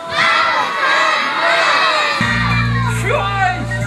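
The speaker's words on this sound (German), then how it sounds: "Bei drei ruft ihr ganz laut, Maus, komm raus." A crowd of children at a live broadcast event shouts loudly in unison, calling out a chant together, with cheering and whoops around it; a deep, steady hum comes in partway through beneath the voices.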